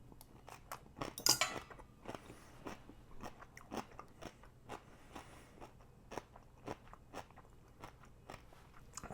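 Close crunchy bites into crisp, six-day-old sauerkraut, followed by a quick series of sharp crackling chews, quiet otherwise.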